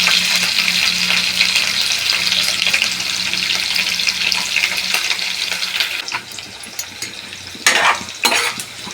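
Green chillies and curry leaves fry in hot oil for a South Indian puri chutney, a loud, steady sizzle with stirring scrapes that quiets after a few seconds, then flares in two short bursts near the end.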